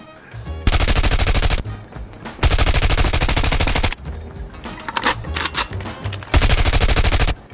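Submachine gun fire from the RUS-79U in the mobile shooter Call of Duty: Mobile, loud sustained automatic bursts separated by short gaps, with scattered game sounds between the volleys.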